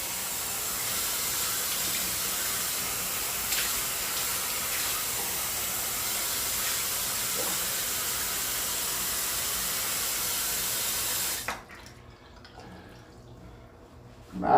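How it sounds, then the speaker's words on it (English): Running water pours steadily over a freshly shaved head being rinsed of hair, a constant loud splash that stops abruptly near the end, leaving a quiet room before a brief bump. "I just got to rinse my head off again to get some of this hair off of me."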